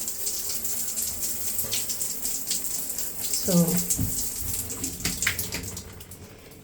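Bathroom tap running steadily, a close continuous splashing hiss with a few clinks, while a person speaks briefly over it.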